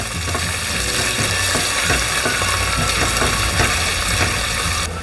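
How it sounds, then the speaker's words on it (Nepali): Ginger garlic paste sizzles with onions in a hot pan while cooking pumpkin and goat meat curry. A loud, continuous frying hiss runs alone, close and steady throughout. "अदुवा लसुनलाई पनि यसमा प्याजमा भुटौँ।"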